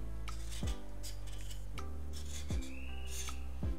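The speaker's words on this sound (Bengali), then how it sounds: "এইভাবেই আমি একটু আঁচড়িয়ে নিব, যেটাকে বলে এই পাতলা চোখলাটাকে ফেলে দিব" A knife scrapes the thin skin off a pointed gourd, making steady close rasping strokes, with a few sharp scraping sweeps spaced about a second apart against a low continuous hum.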